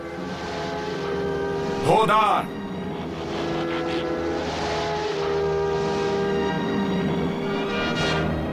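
Cartoon sound effect of the 1984 Transformers Autobots transforming and starting their engines: a steady roaring engine drone with a rising mechanical sweep partway through, under a shouted voice.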